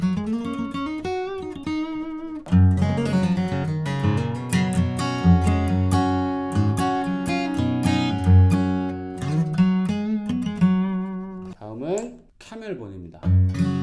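Gibson acoustic guitar strummed with a John Pearse coconut shell pick, giving a compressed, focused tone; full ringing chords play steadily for several seconds, with a brief pause and a few quieter strums near the end.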